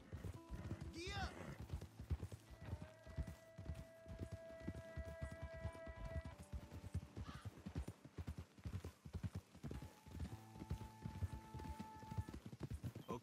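Horses in Red Dead Redemption 2 trot along a road with steady, rhythmic clip-clop hoofbeats and an occasional whinny, joined by sustained tonal music and background speech.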